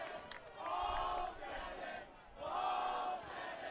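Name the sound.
baseball crowd cheering at the ballpark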